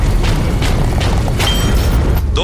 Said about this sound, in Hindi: ये असली आतिशबाजी है, प्रॉप नहीं।